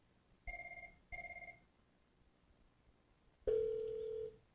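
Ringback tone of an outbound call placed through a Cisco UCME voice gateway dial plan, two double-pulse rings at moderate level followed by a longer steady tone, with no talking.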